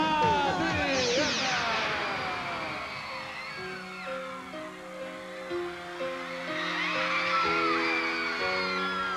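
A studio audience on a 1988 Brazilian TV variety show, Cassino do Chacrinha, whoops, yells and cheers loudly over lively music, the shouting rising again toward the end.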